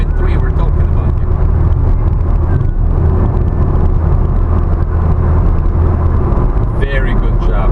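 A 1991 Toyota Starlet GT Turbo, a JDM right-hand-drive 1.3-litre hatchback, drives with a loud, steady engine and road roar filling the cabin as someone talks throughout.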